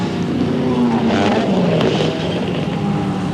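Sports sedan race cars from a 1988 series at Sandown roar down the straight, loud engine notes rising and falling as they pass close by in a continuous rush.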